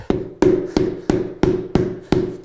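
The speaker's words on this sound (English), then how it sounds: "Just give it a bunch of love taps." Seven evenly spaced hammer taps on engineered hardwood flooring boards, sharp knocks with a short hollow ring, close and steady in rhythm.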